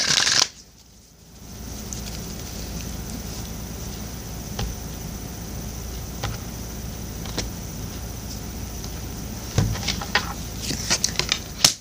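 Tarot cards are shuffled and riffled in soft, papery bursts, with intermittent taps and a louder flurry near the end; no one speaks.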